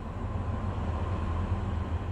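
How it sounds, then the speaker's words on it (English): A CSX freight train led by a GE Evolution series locomotive with an ex-Baltimore and Ohio GP40-2 helper rolls past along the Delaware River, a steady, loud low rumble of wheels and cars with no break in the sound. "Thankfully, CSX provides another freight for us to enjoy."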